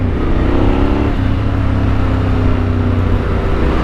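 Yamaha Tenere 700 motorcycle with a flashed ECU, its engine revving loudly and steadily with a rising, snarling pitch near the middle, close and continuous with no talk.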